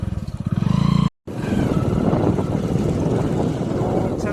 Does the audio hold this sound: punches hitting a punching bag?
no